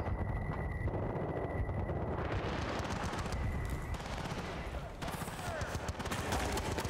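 Machine gun fire in the video game Battlefield Bad Company 2: loud, dense automatic bursts that run almost without a break, with layered gunfire and battle noise filling the scene.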